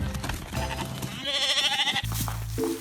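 Sheep bleating loudly in a wavering, quavering call in the middle of the clip, set against busy background music and noise from a weather disaster documentary.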